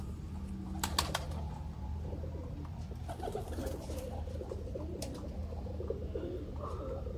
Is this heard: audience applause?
no